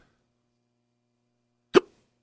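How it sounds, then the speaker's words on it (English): One short, sharp hiccup, close and fairly loud, bursts out of near silence and stops abruptly. "hiccups, gremlins in my system."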